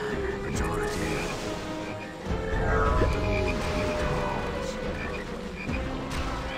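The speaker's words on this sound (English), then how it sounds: "Release the frogs!" Frogs croak in the fantasy strategy game Sacrifice, a dense chorus of overlapping croaks with game effects and music throughout, steady and fairly loud.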